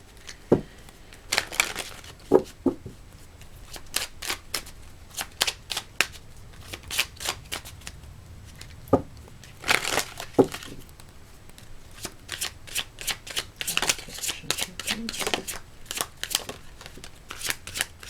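Astrology cards shuffled by hand in quick riffling bursts, crisp papery flicks and snaps repeating irregularly over a long stretch, close up with no one speaking.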